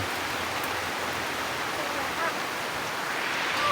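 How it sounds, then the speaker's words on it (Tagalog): Heavy rain pours in a dense, steady hiss without pause, with a faint bird chirp near the end. "grabing lakas lakas ng ulan ba walang tigil"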